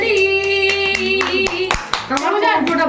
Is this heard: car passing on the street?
no